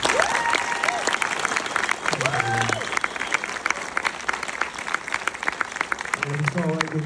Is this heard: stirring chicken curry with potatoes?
no